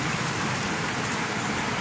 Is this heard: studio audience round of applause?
no